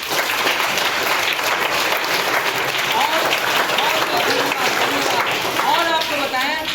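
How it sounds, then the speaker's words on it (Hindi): Schoolchildren at a birthday celebration in a public school burst into loud, continuous clapping for their teachers, with young voices shouting and chattering through it. "मैं चाहूँगा कि अपने टीचर के लिए भी एक जोरदार ताली बच्चों बजाएं"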